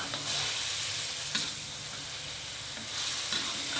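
Tamarind water hits a hot frying pan of tempeh, setting off a loud, steady sizzle and hiss up close with a few sharper bursts of spatter and stirring, no voices.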